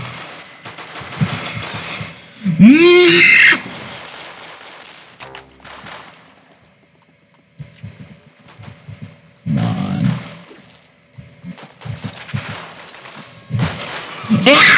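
Heavy weapons firing in the Arsenal video game: loud, dense bursts of shots in several clusters, broken by pauses, with a player talking over the action.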